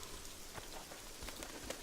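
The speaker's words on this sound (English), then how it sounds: "This is the first time it's raining in this place." Steady rain falls in The Witcher 2 game world around the town of Flotsam, a dense even patter of drops on surfaces with faint scattered taps, continuous and fairly close.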